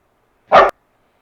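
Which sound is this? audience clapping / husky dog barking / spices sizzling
husky dog barking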